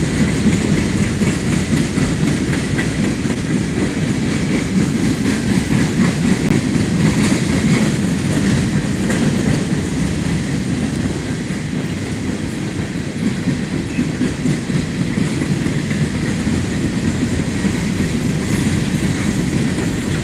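A CSX freight train rolls past trackside at Thurmond, West Virginia, its steady, loud rumble and rattling railcars filling the whole stretch without letting up.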